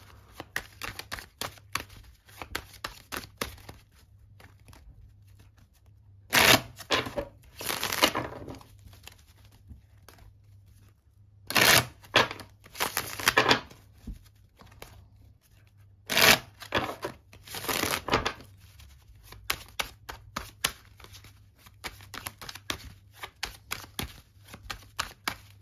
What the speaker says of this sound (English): let's throw some cards.